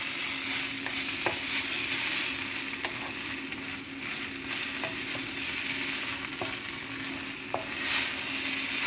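Bok choy stir-fried in a hot pan for shrimp and soy sauce noodles, a steady broadband sizzle with scattered sharp clicks of a utensil scraping and tossing, close and continuous throughout, with no voices.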